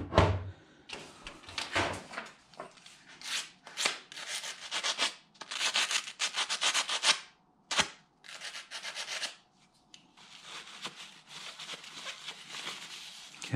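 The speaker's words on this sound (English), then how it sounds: "I'm just gonna scuff it with some sandpaper" A spark plug is scuffed by hand with sandpaper during reassembly of a BMW N52 engine from an E90 325i, giving bursts of dry, rasping rubbing strokes close up, interrupted by short pauses and a few sharp knocks.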